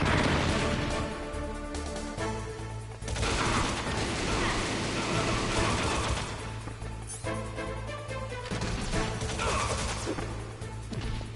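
Gunfire and grenade blasts from the video game Metal Gear Solid: dense, rapid bursts of shots and crashes over a steady low game rumble, loud and continuous throughout.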